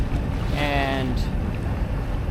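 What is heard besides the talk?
sailboat motor sailing up the Malacca Strait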